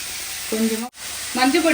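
Mushrooms with turmeric sauté in a pan, making a steady hissing sizzle, briefly interrupted, while short bursts of a voice speak over it.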